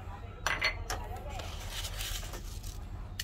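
Pork being mixed by hand with salt and pepper in a bowl for a stir-fry with green and red peppers, giving soft, close clinks and scrapes of utensils against the dish beneath continuous talk.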